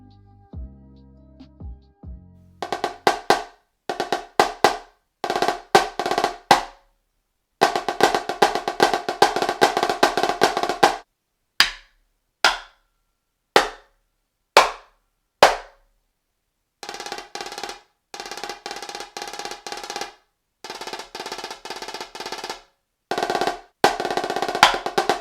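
A marching drum fitted with a System Blue top head and a low tension bottom head is played in short bursts of rolls and sharp single strokes, separated by clean silences, close and crisp.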